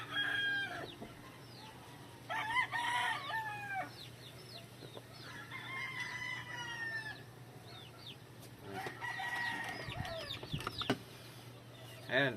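A regular Hatch Grey gamefowl broodcock crows several times, loud and close, with clucking and other fowl calls around it on a farm.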